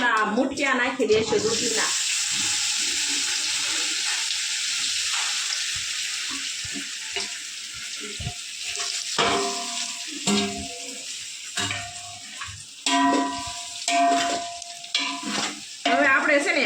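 Cumin seeds sizzle loudly in hot oil for a home Gujarati meal, a bright crackling burst at first that settles into steady frying, broken by spoon scrapes and stirring clatter against the pan.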